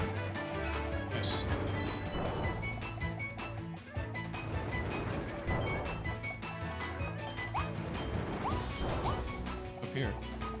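Glass lanterns breaking in the video game Kirby and the Forgotten Land, with sharp crashes and thwacks set against dense, continuous game music and effects throughout.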